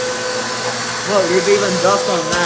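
A Bissell PowerTrak Compact or Hoover WindTunnel vacuum cleaner motor runs with a loud, steady whine and a rough, strained tone while a person talks over it.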